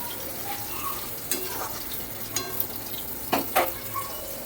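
Pumpkin greens cooking in oil with black cumin in a home kitchen pan, giving a faint, steady sizzle broken by a few soft stirring clatters and scrapes.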